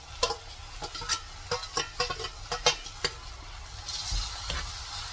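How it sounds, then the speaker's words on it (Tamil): Ground paste of green onion and shallots being sautéed in a pan for a mushroom gravy: quiet sizzling under a run of quick, rhythmic spatula scrapes and knocks, then a louder rush of sizzle near the end, with no talking. "இதுவும் பச்சை வாசனை கொஞ்சம் போகிற வரைக்கும் வதக்கிக்கலாம்"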